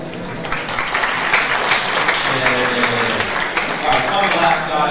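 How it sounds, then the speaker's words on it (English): An audience at a VR meetup breaks into sustained applause, a dense wash of clapping that holds steady throughout with possible crowd murmur underneath. "All right, so a round of applause."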